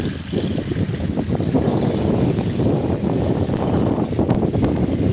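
Strong wind and rain batter the Padma riverbank with a boat passing, a loud continuous rumbling roar of wind buffeting the microphone, with faint patter above it and no speech.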